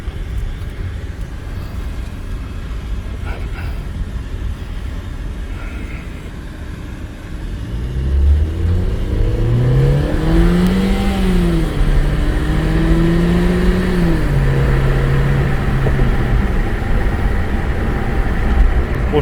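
A 2016 Ford Fiesta SE engine revving up through the gears on a test drive, starting as a low rumbling idle, then rising into a strong, close acceleration whine that climbs, drops and climbs again.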